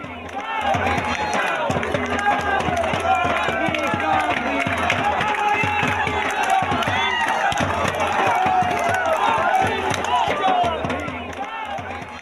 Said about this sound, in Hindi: प्रदर्शनकारी तालियां और डफली बजाकर प्रोटेस्ट कर रहे थे